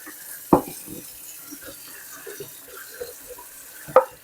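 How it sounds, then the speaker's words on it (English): Hot water runs steadily from a kitchen sink faucet, a soft continuous rush close by, broken by a couple of sharp clinks of dishes or utensils. "I'm just running hot water so that if there's any remnants that go down the sink, it's all hot"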